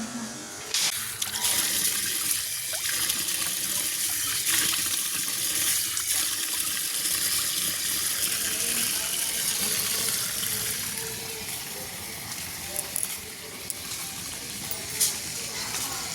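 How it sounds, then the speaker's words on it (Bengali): Tap water runs steadily into a basin being filled for rooftop plants, a continuous close hiss and splash with no breaks and no speech. "এই গামলায় জল পড়ছে, ছাদে গাছে দেবো বলে"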